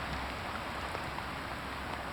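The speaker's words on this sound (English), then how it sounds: "We are in the rain on the Abbey River" Steady rain falls over a river during a kayaking trip, a continuous even hiss of drops on water and gear with no speech, moderately loud and unbroken throughout.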